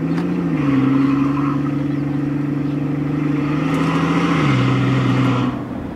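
A straight-piped Mercedes S65 AMG with a 6.0L V12 burbles at low RPM while cruising slowly through a neighborhood, its deep, steady exhaust drone dipping slightly in pitch twice before it trails off near the end.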